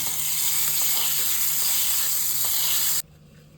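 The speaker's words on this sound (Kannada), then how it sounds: "ನೋಡಿ ಒಗ್ಗರಣೆ ಮಾಡ್ಕೊಂಡ್ಮೇಲೆ ಇದನ್ನು ಇದಕ್ಕೆ ಹಾಕೊಳ್ತಾ ಇದ್ದೀನಿ" A hot tempering with curry leaves hits mango and coconut chutney, giving a loud, continuous crackling sizzle for about three seconds before it cuts off abruptly to near silence.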